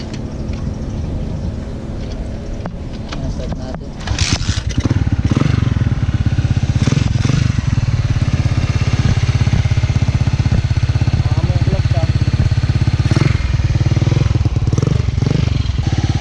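Motorcycle engine idling steadily, then revving louder and holding a strong, close, continuous drone with some mechanical clatter; no talk.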